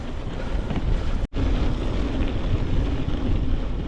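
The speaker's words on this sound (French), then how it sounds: "Puis là on a un gros vent là, latéral." A strong crosswind roars steadily into the microphone on a frozen, snowy hill climb, a loud continuous rumbling buffet with one brief dropout, no talk.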